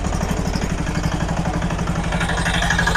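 A driverless mini tractor engine runs steadily with a loud, rhythmic chugging and clatter, close by and continuous throughout.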